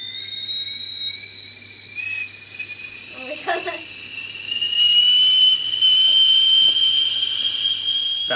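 A stovetop kettle whistles at the boil, a loud, steady high-pitched shriek that shifts pitch slightly, with faint clatter and hiss beneath.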